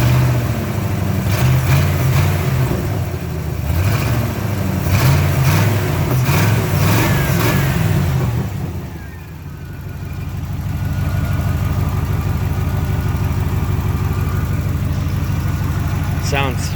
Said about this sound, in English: it's not really sounding much like a stroker engine right now because the idle might be a little too low